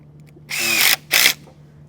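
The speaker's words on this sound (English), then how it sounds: "I like to drill in 3 different places, 2 on the ends, and then 1 in the center." A power drill driving fasteners into a sill plate on a girth board: one sustained whining burst, then a brief pause and a second shorter burst, loud and close, with quiet before and after.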